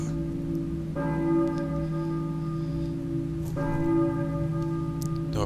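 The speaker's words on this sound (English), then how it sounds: "I hear a church bell?" A church bell in the Silent Hill video game rings twice, each deep toll sustaining and slowly fading, several seconds apart with a low hum underneath.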